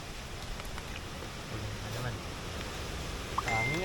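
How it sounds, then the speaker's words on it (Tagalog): Steady hiss of fine light rain driven by strong wind at a lakeside fishing spot in Caliraya, a dense continuous wash with a voice briefly heard under it. "Yung hangin na malakas. Pino yung ulan."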